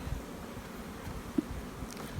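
Honey bees buzz steadily around an open hive during a spring colony check. The hum is low and continuous, with a few brief knocks.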